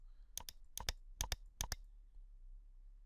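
Username and password being typed on a computer keyboard: four quick pairs of crisp, close key clicks in an even rhythm, then a quiet pause with only faint background hum.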